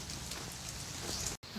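Steady rain hisses across the whole stretch, a dense even patter with a brief dropout near the end.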